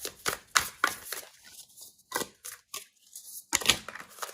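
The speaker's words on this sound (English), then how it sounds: "This deck is so hard to shuffle" Tarot cards being shuffled, a stiff deck riffled and cut in a run of quick crisp slaps and flutters, close and fairly quiet, with short pauses between bursts and no talking.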